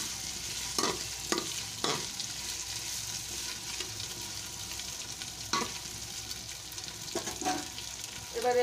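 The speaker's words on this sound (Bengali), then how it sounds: "ভালো করে এটা আমি ভেজে নেব।" Food for chicken pulao fried in a pan over a high gas flame, a steady sizzle broken by several sharp scrapes and knocks of a stirring spoon, close and fairly quiet.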